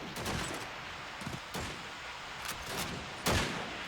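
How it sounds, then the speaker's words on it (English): Gunfire in the multiplayer shooter Call of Duty 2 on the Dawnville map: several sharp, loud shots spaced irregularly over a few seconds, with a heavier blast near the end and continuous game ambience underneath. "He will fire off a couple of shots towards the smoke"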